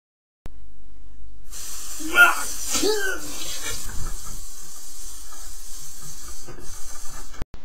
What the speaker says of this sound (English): Spray myself with copious amounts of deodorant.